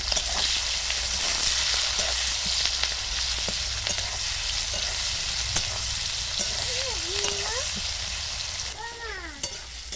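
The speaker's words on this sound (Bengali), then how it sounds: "আলু ভাজা তেলে দিয়ে দেব পেঁয়াজ লঙ্কা কুচি" Chopped onion and green chili fry in hot oil left from frying potatoes, a loud, dense, continuous sizzle with occasional stirring scrapes and clinks.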